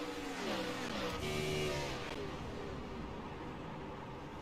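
On-board engine roar from the number 97 race car on a lap at Chicagoland, a loud, steady, high-revving note that climbs and then holds.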